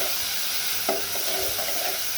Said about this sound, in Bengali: চিংড়ি মাছটা একটু ভেজে নিব